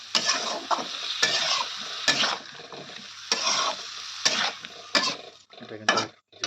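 Katla fish curry with brinjal, cauliflower and ground chilli is stirred in a pan, with a steady sizzle under repeated scraping strokes of a spoon against the metal, close and fairly loud.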